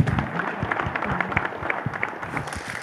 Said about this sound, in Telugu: ఎడిట్ టీమ్కి I should they should give a huge round of applause actually